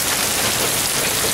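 Hail pelting a roof during a tornado-warning storm, a dense, loud, continuous drumming roar with no pauses.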